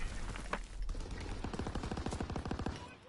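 Automatic gunfire with incendiary rounds in Call of Duty: WWII, a fast, sustained rattle of rapid shots, fairly faint and steady, building into a dense burst toward the end.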